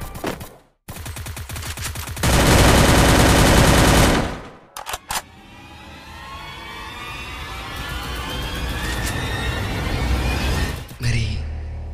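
Rapid automatic gunfire in the Free Fire battle royale game erupts in loud sustained bursts, broken by short gaps, then settles into a rising whir of vehicle or engine noise.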